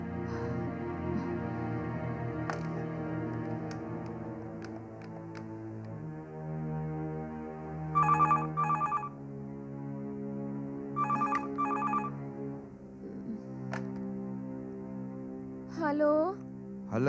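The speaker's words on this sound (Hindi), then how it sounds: "उषा को फोन कीजिए" A telephone rings in a Hindi horror thriller film, two short bursts of bright ringing repeated over a steady, sustained musical score, with a brief voice near the end.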